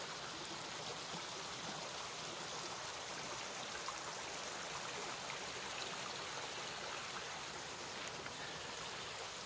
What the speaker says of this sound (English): a piece of property that has free running water on it, that runs like all year round